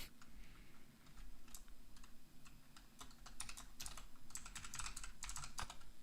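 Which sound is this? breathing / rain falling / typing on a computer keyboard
typing on a computer keyboard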